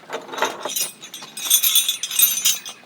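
A set of old vintage keys jangles and clinks in bright metallic bursts, close and fairly loud, shaken on and off for about three seconds in a secondhand shop setting.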